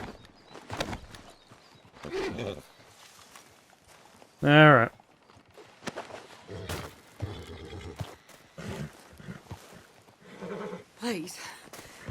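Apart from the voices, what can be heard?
horse neighing and hooves in video game Red Dead Redemption 2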